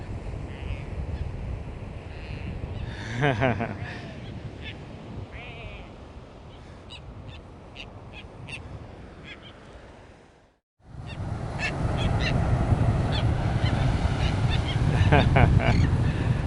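Birds honking and calling intermittently over steady outdoor background noise, with brief repeated calls that are sometimes close and sometimes distant.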